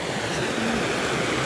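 Waterfall at the head of Gulf Hagas on a Maine hiking trail, a steady, dense roar of falling water filling the whole clip with no pauses or voices.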